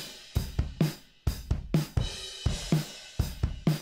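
Session drummer's recorded drum kit groove, close and punchy, with kick, snare hits and cymbals in a steady repeating pattern, no voices.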